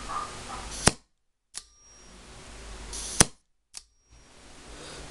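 Autococker paintball marker fires two sharp, loud shots a couple of seconds apart, each followed by a brief mechanical recocking click, with near-silent gaps between them.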